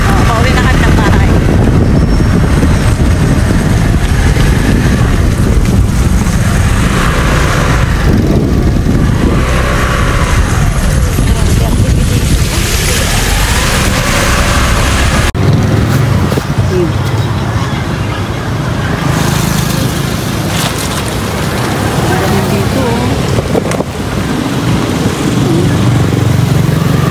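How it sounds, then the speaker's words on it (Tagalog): Continuous motorcycle engine drone with wind rushing past, heard from on board as it rides, with people talking over the noise. "Masakay naman ako sa motor."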